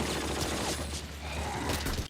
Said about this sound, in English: Bullets blazing past.